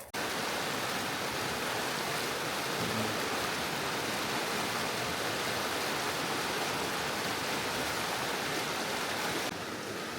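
Water of Swift Creek rushes in a steady, dense hiss, a constant full flow, unbroken for the whole stretch.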